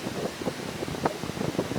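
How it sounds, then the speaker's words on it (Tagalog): Strong wind at a beach rumbles and buffets the microphone in uneven gusts, a constant noisy roar with no voices. "Malakas ang hangin, medyo maingay siya"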